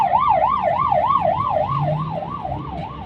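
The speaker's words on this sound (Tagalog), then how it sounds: "Ayan, bumbero yung dumaan. Ambulansya. Ambulansya pala yun." An ambulance siren wails up and down in a steady rhythmic cycle, loud and close, then fades slightly as it passes.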